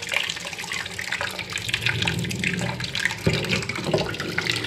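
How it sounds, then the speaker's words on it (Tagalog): Tap water runs steadily into a kitchen sink in a home, a continuous splashing gush that stays loud and close throughout with no talking. "Running water na natin."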